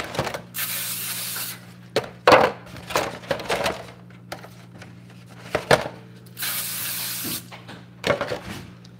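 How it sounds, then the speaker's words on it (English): Olive oil cooking spray hissing onto baking pans in a home kitchen, several short bright bursts separated by pauses, with light clatter of pans being set down between sprays. "And I spray my pans. I'm using olive oil spray."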